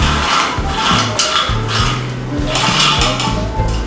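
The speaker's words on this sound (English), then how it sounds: "I'm going to take a bowl and a plate and transfer the peanuts into the bowl" Roasted peanuts are tipped and scraped from a plate into a bowl, giving a loud, continuous clattering and rattling with repeated hard knocks of dish against dish, close up and without speech.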